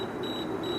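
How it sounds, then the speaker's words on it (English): A thin, high electronic beep from a phone alarm sounds twice in quick succession over a low background hum, beside a Weber grill with an Inkbird IBT-4XS thermometer. "I don't know if you can hear that beeping, but my phone's going off."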